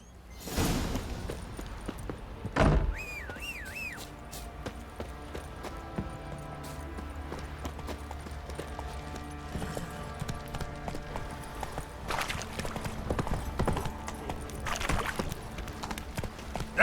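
Roach, a horse in The Witcher 3 game, clops along with steady, rhythmic hoofbeats that continue throughout, alongside occasional whooshes and a soft background score.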